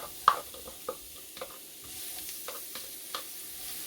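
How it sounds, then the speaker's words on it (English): Onions and ginger frying in olive oil give a faint sizzle with a few soft stirring clicks and scrapes, close by and quiet, with no voices. "So getting ready to start frying, I am going to start with onions and ginger."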